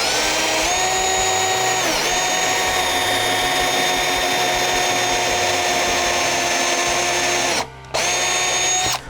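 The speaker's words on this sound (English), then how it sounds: "So let's go ahead and drill one out." A power drill bores a pilot hole for a screw through a drill guide on an HO scale model railroad layout. Its close, steady high whine dips in pitch now and then and cuts out briefly just before the end.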